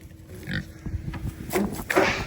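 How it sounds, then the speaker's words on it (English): Pigs grunt and snort in short, irregular bursts close by, some louder than others, as they move around a water setup. "These pigs are pretty hard on water, as they just like walk up and bump into it"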